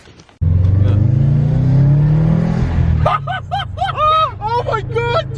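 Car engine fitted with a new intake, idling loud and close before revving up in a rising whine, then several sharp repeated throttle blips near the end.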